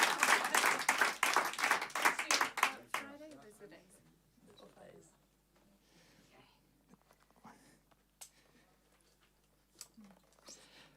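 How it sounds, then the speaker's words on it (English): Audience members at a live studio concert clap in a loud, rhythmic burst for about three seconds. The clapping then stops abruptly, leaving quiet, distant talk and faint room noise. "See, you are so good at clapping."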